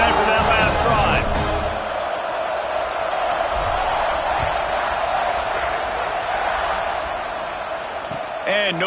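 A college football stadium crowd roars steadily at a kickoff, a broad, sustained wall of cheering that holds loud throughout with a commentator talking over it.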